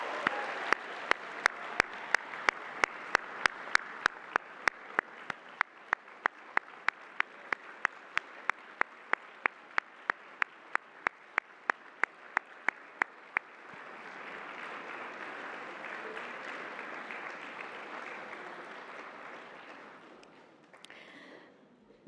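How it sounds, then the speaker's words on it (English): Graduates at a 2025 School of Science advanced degree ceremony applaud their supporters with steady, sustained clapping from a large crowd. Evenly spaced sharp clicks run through the first half, and the applause swells slightly before tapering off. "An applause for all of your supporters."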